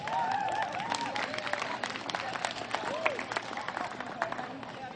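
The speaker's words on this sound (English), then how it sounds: "I'd like to thank all his relatives for giving him a big round of applause out there." Outdoor twilight concert audience clapping steadily as a crowd, with cheers, whistles and murmured voices mixed into the dense applause throughout.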